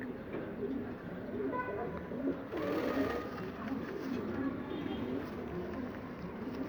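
Pigeons coo softly in repeated low murmurs over a steady background hum, with people talking nearby.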